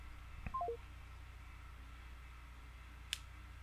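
A telephone keypad being dialed: a quick run of three faint beeps, followed by silence and then one sharp click.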